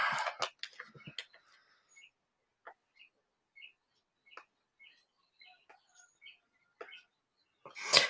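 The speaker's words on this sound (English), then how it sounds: "this is a baby currawong." A baby currawong gives short, thin chirping calls repeated at irregular intervals, fairly faint against a quiet background, with a few nearby clatters and rustles at the start and end.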